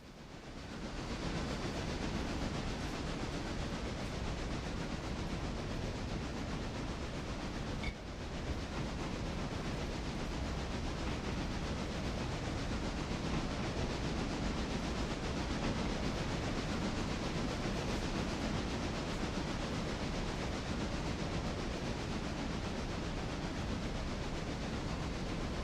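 In the video game Railroader, a train runs along the track through a sharp curve over a trestle, giving a steady, loud, continuous rumble with faint rhythmic clatter and hiss that lasts the whole stretch without talk.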